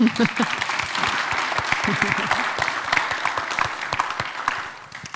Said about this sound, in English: let's show our appreciation that Kara came out by clapping